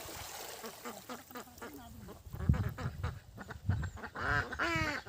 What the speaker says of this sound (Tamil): திரும்பவும் அந்த வாத்துங்கள்லாம் வந்தது